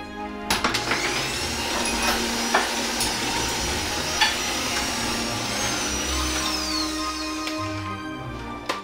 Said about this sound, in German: und dann rühren wir das Ganze schön mal kurz durch